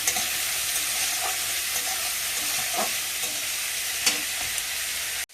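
Shrimp frying in a pan with salt and turmeric, giving a steady, close hiss of sizzling oil with occasional soft stirring scrapes, then an abrupt stop.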